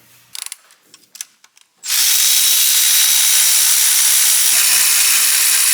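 A ratchet wrench clicks through a few quick turns on a Mercedes GT63s engine during alternator removal, followed by a loud, sustained hiss that fills the rest of the clip.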